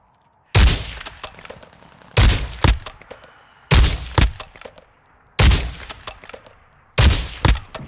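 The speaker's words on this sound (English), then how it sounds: "You are taking effective fire." Gunfire from Call of Duty DMZ, five loud bursts of rapid shots spaced about every one and a half seconds, each a sharp crack with quick follow-up rounds and short echoing tails.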